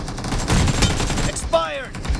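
Gunfire in the mobile battle royale game PUBG / BGMI, played on a Nothing Phone 2: dense, loud bursts of shots over game noise, followed by a shorter burst near the end.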